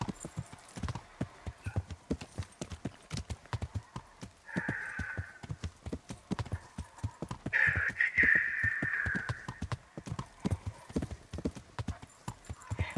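Horse hooves clip-clop in an uneven walking rhythm close by, with two whinnies rising over the steps midway and a voice occasionally heard.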